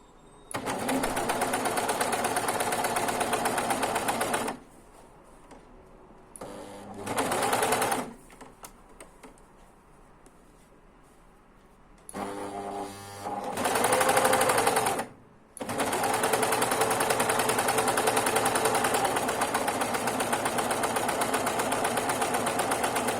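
An overlock sewing machine running a two-thread overlock stitch whirs loudly and steadily in long bursts, with quiet pauses between runs and a short, softer spell of stitching in the middle.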